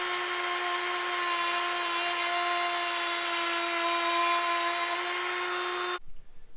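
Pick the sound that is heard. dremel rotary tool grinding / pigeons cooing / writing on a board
dremel rotary tool grinding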